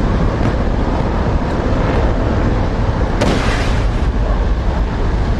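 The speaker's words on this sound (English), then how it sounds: "Inaccurate ground fire coming in." Ground fire and explosions in the flight sim DCS World, a loud, continuous roar with rumbling low-end blasts and one sharp crack partway through.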